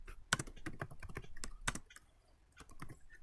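Code being typed on a computer keyboard, quiet close key clicks in quick irregular bursts with a couple of sharper louder strikes and a brief pause near the end.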